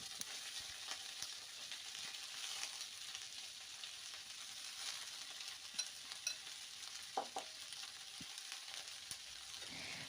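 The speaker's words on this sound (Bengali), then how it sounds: "এবার দিয়ে দিচ্ছি কেটে রাখা বাঁধাকপি" Chopped cabbage hits hot oil in a pan and fries with a steady, close sizzle, while a spatula scrapes and stirs it in scattered knocks across the whole stretch.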